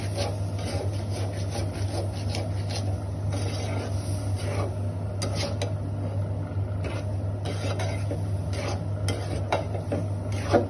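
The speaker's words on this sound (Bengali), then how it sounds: "এভাবে ভালো করে কিছুক্ষণ কষিয়ে নিব।" Carrot pickle being stirred and sautéed in a pan, a steady scraping and rubbing of utensil against the pan with a faint sizzle underneath, continuous and close throughout.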